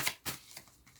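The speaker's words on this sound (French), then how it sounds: "On va prendre une première carte." Tarot cards slide and flick as a card is drawn from the deck, a few soft, quick papery swipes heard close and quiet with no one speaking.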